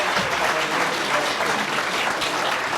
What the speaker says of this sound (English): Another round of applause for those guys.